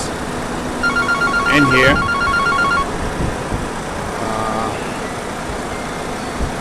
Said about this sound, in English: Sorry, I got a phone call, so I have to pick it up.